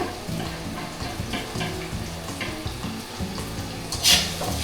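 Garlic frying in a hot stainless steel pan on an induction cooktop, a steady crackling sizzle with a brief brighter hiss near the end, close and alone without talk.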